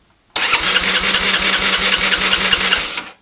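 A GY6 scooter engine cranks on its starter motor with a rapid, even chugging rhythm for about three seconds, close and loud, and it does not catch.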